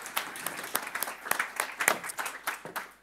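Scattered applause from a panel-discussion audience at an internet conference, individual claps standing out irregularly at moderate volume, thin and uneven rather than a dense roar.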